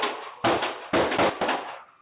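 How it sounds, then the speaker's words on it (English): Rapid gunfire from a deadly Sunday-night shooting in Las Vegas picked up by a surveillance camera, about four sharp, muffled bursts in quick succession with a thin, band-limited tone. "Rapid gunfire Sunday night."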